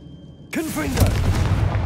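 Confringo spell blast in Hogwarts Legacy: a sudden booming burst with a swooping, whooshing tail that rumbles on afterward, loud and close.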